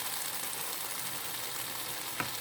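Garlic frying in a pan for a Korean stir-fry of shishito peppers and anchovies, a steady close sizzle holding at an even level throughout, with one small clack near the end.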